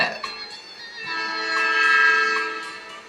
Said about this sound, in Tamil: ட்ரெயின் கிராஸ் பண்ணும்போது எழுபது டெசிபிள் சவுண்ட் தான் உண்டாக்கும்